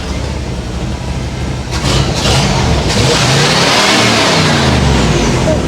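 A 1965 El Camino engine revs hard with its throttle stuck open. The loud, steady roar swells after about two seconds and holds at high revs without dropping back.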